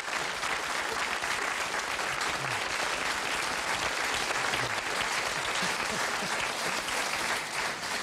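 Sustained applause from a television talk-show studio audience welcoming oboist Albrecht Mayer, a dense, steady wash of clapping that holds at even loudness for the whole stretch with no voices over it.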